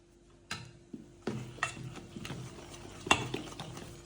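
A spoon scraping and knocking around a bowl as thick pearl millet batter is stirred with salt, several soft clinks and scrapes at an uneven pace, close by.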